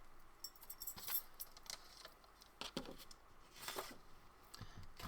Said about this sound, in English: Get out my cutter.